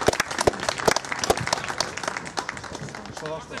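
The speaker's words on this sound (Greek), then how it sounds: "Χειροκροτεί ο Πάγκος." A team bench applauds at a youth football friendly, sharp claps scattered across the whole stretch, near and fairly loud, with shouted voices breaking in now and then.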